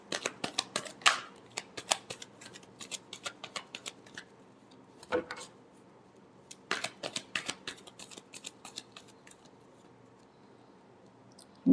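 Tarot cards being shuffled by hand in a quiet room, a run of soft, quick papery riffles and flicks coming in bursts with short pauses between, close and fairly faint.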